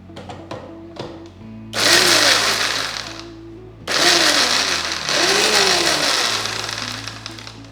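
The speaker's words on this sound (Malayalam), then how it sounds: "ഇതെല്ലാം കൂടെ ഒന്ന് അരച്ചെടുക്കാം. ചെറുതായിട്ടൊന്ന് ക്രഷ് ചെയ്താൽ മതി" A mixer grinder crushing fennel and pepper runs in two loud whirring bursts of a few seconds each, separated by a short pause, with faint clatter before the first burst.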